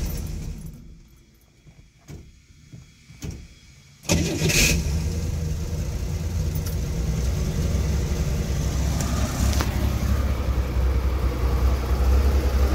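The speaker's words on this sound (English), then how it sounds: "start it up, let it warm up, and then we're gonna go ahead and take a look at timing and RPM" A Chevrolet Corvair with an idle problem cranks a few times, then catches and settles into a steady, loud, continuous running idle as it warms up.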